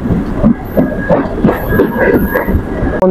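A local train pulls into Durgapur station at night, with a steady rumbling rattle and rhythmic wheel clatter close by, plus faint high squeals above the noise.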